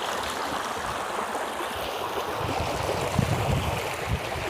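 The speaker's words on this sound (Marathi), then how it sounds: "बघा इथं पाणी कसं वाहत आहे, हे एकदम खतरनाक पाणी वाहत आहे" Fast, dangerous river water rushes by in a steady broadband roar, loud and close, with occasional low gurgling surges and no voices.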